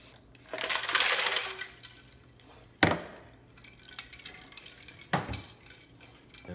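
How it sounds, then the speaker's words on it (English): Ice cubes drop into a metal pot for a chemistry project, with a rattling clatter, then two more sharp clunks as further pieces land, close and fairly loud. "and after that we'll add in the ice to make it ice cold water."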